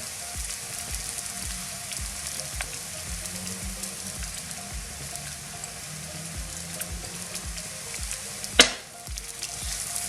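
Vegetables sizzle steadily in a frying pan for a veggie couscous as coriander goes in, with faint stirring scrapes and one sharp clatter near the end; no talking.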